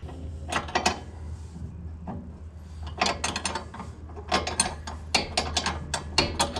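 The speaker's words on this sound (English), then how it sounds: "So I'm just disconnecting the sway bar now" Close metallic ratcheting and tool clatter come in irregular bursts while a sway bar is disconnected on an EK Honda Civic, over a low background hum, with no talking.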